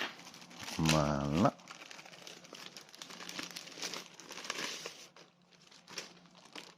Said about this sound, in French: Donc on va ouvrir la notice.